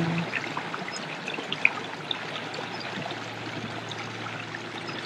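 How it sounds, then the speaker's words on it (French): A small stream flows in a natural setting, giving a steady, soft broadband babble and trickle that runs unbroken throughout, with no voices over it. "avec ce magnifique petit ruisseau qui s'écoule"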